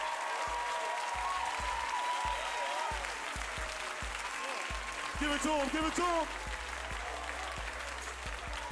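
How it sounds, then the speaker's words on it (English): Comedy club audience in New York clapping for stand-up comedian Ray Lipowski as he leaves the stage, steady applause with scattered cheers under a host's shouted voice. "Clap it up for Ray Lipowski."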